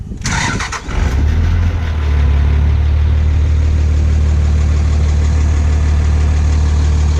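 A turbocharged truck engine cranks and fires, then settles into a loud, steady low rumbling idle close by for several seconds.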